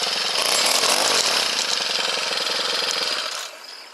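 A free, just-repaired weed whacker's small motor runs loud and steady at close range, its buzzing drone holding for several seconds before easing off slightly at the end.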